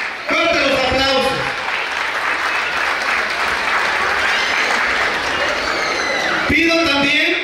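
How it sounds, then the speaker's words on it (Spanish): Loud, sustained audience applause fills a preschool graduation ceremony, a dense wash of clapping that holds steady for several seconds, with a voice over a loudspeaker briefly audible at the start and end. "¡Fuerte los aplausos!"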